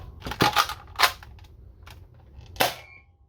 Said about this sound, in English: Just want to shoot it over the chronograph to show off what kind of FPS you can get out of a Kronos